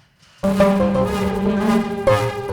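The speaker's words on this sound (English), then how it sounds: "This is the sound of the blowing the conch shell." A conch shell is blown in a long, sustained, resonant tone that starts abruptly, with a brief renewed surge near the end.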